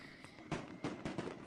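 Fireworks celebrating a walk-off home run in a baseball video game, a few quick faint pops and crackles in an uneven burst over a soft background.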